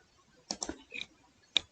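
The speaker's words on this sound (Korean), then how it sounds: "왼쪽 하단에 시작 버튼을 클릭하시고요" Mouse clicks on the Windows 10 Start button: a quick pair of sharp clicks, a softer double click after it, then one crisp click on its own, close and quiet with no talking.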